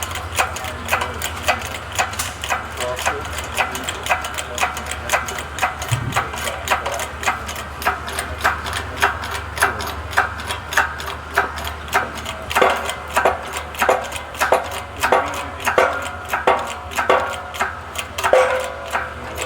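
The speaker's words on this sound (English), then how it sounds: "we're pressing the bearing, the axle into the bearing and the spacer" A press forces the axle into a wheel bearing and spacer on a Nissan Xterra rear hub, giving a steady run of small ticking and clicking mechanical sounds with a low hum underneath and some quiet talk.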